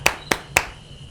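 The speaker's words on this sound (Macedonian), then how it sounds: "Ајде еден аплауз" Three sharp, evenly spaced hand claps ring out close by at an FC 26 gaming event in Macedonia, then fade to a quiet room with no voices.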